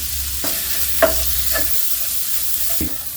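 Ground coriander and Kashmiri red chilli masala roast in a hot pan, with a steady, close sizzle broken by a few sharp spoon-scraping stirring strokes.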